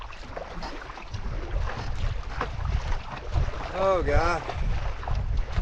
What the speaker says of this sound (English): Paddling in the wind. Paddling in the wind.